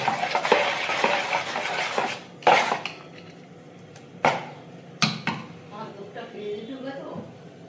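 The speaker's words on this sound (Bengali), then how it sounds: "গোলাটা যত ঘাটবো তত ভালো হবে।" Batter for Bengali Gokul Pithe sweets stirred in a bowl, with a busy run of scraping and clinking at first, then sharp isolated knocks of the utensil against the vessel spaced apart amid quieter stretches.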